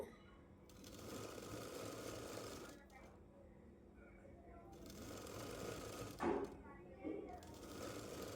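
A sewing machine runs a double stitch along a piping blouse seam with a steady, close whirring hum. Its rhythm breaks briefly a few times, and a quiet voice is heard underneath.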